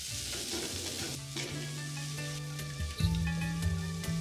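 Vegetables and tomatoes sizzling and frying in a pan for a breakfast of eggs and bread, with steady hissing and a few scraping stirs and tosses, loudest near the end.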